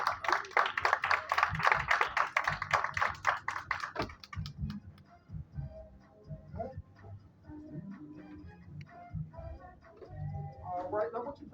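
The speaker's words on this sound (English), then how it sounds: "Come on up and give them a big round of applause." Audience on a stage show claps in a brisk burst of applause for volunteers coming up, fading after a few seconds as someone talks and moves about nearby.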